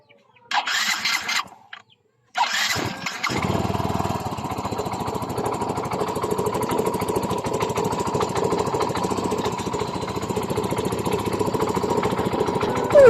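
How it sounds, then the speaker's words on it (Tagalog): A Yamaha Mio i 125 scooter with a newly replaced block set starts after a couple of short bursts, then settles into a steady, close, rapid idle with a fairly even clatter. "Ito naman ang tunog ng kanyang makina pagkatapos natin mapalitan ng bagong block set."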